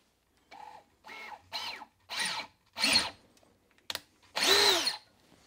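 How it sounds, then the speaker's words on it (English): Holes drilled into an antenna case with a power drill, in a series of short separate bursts of whirring, each a second or less with brief pauses between and a longer final run, close and fairly quiet. "now we have to drill the holes in the case"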